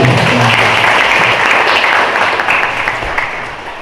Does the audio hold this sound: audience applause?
yes